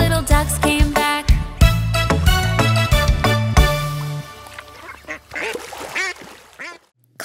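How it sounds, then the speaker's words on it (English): A cartoon duck quacks repeatedly in a children's nursery song about five little ducks, its nasal quacks falling in rhythm with bright, bouncy music before the tune drops away to a few fainter quacks. "Mommy duck said quack, quack, quack, quack"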